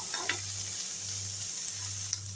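A dosa topping sautés in a pan with a soft, steady sizzle, a few light stirring taps near the start and end, and a low hum underneath.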